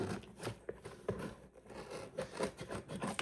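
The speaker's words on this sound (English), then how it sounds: "I have to get the scissors back out" Scissors snipping and scraping through priority mail packaging, a series of close, crisp cuts with rustling in between.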